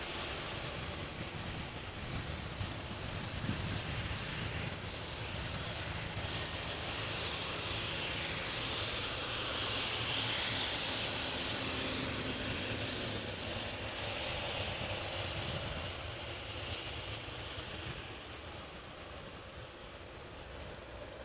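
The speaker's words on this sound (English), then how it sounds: "we have an A319 from EasyJet that is going to London Luton in the background, in the distance, taking off from the center runway" An EasyJet Airbus A319 taking off from the center runway at Amsterdam Schiphol Airport, bound for London Luton, giving a distant, steady jet engine roar that swells slightly midway and stays fairly even throughout.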